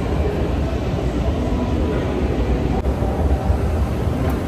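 A train rolls along the rails with a steady, continuous rumble and noise heard from inside the carriage, and no clear voices come through.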